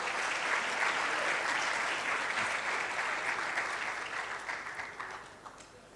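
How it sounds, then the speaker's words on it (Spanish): An audience at an anniversary event on fiscal policy applauds to welcome panel speakers, a sustained, full round of clapping that slowly thins toward the end. "Los recibimos con un fuerte aplauso."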